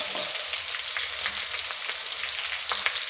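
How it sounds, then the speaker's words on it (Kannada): Green chillies frying in hot oil for a beetroot stir-fry, giving a steady, close crackling sizzle with faint scraping stirs and no talk. "ಈ ಹಸಿಮೆಣಸಿನ್ಕಾಯಿ ಎಣ್ಣೆಗಾಗಿ ಚೆನ್ನಾಗಿ ಬಾರಬೇಕು"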